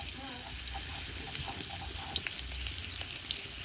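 Ginger-garlic paste frying in oil over a wood-fired clay stove, a soft continuous sizzle with faint pops and crackles, quiet and close, while someone talks nearby.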